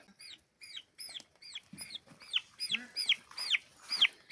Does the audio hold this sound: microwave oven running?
no